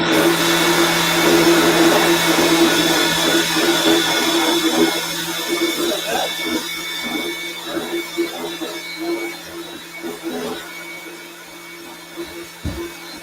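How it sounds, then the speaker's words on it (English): A countertop blender runs on high with a loud, steady motor whine that drops in pitch partway through and turns choppier as the contents churn, ending with a knock. "I'm going to have this on high and then I'm going to use just probably the handle of my spatula to push right through the top of my blender"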